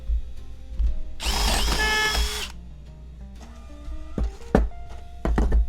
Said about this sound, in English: I don't like this bit that, like, grabs in and screws itself into the wood.